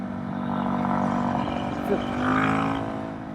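A converted Yamaha WR450F dirt bike cruising on the street at low RPM, a steady low engine drone with a faint harmonic whine and a gentle swell in loudness, close and continuous.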